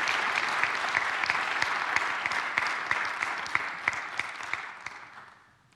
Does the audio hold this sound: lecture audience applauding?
yes